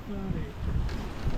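Strong wind roars and buffets over a sailboat running downwind at about six knots off the Tenerife coast, a continuous loud rush mixed with water noise and a few faint voices.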